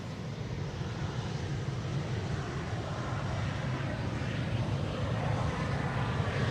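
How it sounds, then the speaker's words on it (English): KLM Boeing 737-700 passing overhead near Amsterdam Schiphol, a steady broad jet roar that swells slightly over several seconds, continuous and moderately loud with no talk. "KLM 737-700"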